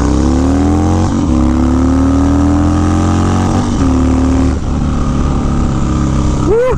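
A Harley motorcycle fitted with Lucky Dave's riser bars engine-brakes on the road, its steady, close, low rumble holding with rising harmonic tones over constant wind roar.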